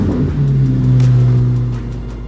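A Corvette race car accelerates hard on the Watkins Glen circuit during a record lap, its engine note loud and close, climbing steadily in a sustained roar with no voices.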